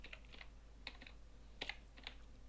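A command is typed on a computer keyboard during AutoCAD work, heard as a few quick, quiet clusters of key clicks in an otherwise still room.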